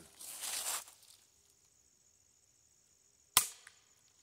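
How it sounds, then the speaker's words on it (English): A single shot from a Daisy Powerline 880 BB air rifle fired outdoors near woods, a sharp short crack after a brief rustle and then quiet, with insect or bird chirps faintly in the background. "All right, let's shoot this thing a few times."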